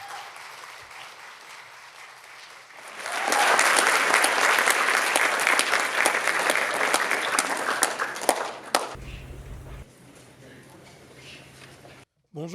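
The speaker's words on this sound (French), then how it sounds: "je l'invite à se lever pour nous parler de ces idées avec vos applaudissements les plus chaleureux" Audience bursts into warm applause for a speaker named Stéphane at a talk on Malagasy identity, rising sharply after a quiet moment, dense and loud for several seconds, then cutting off abruptly with room noise after.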